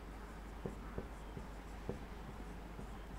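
Quiet writing on a board during a physics lesson: a few sparse taps and short scratchy strokes, faint against a low room hum.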